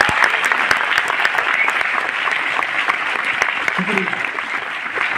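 A crowd at a success celebration in Delhi claps in a dense, steady burst of applause that holds strong for several seconds without a break.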